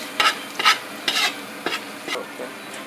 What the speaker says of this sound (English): because I have so much pork, I'm putting it in this big pot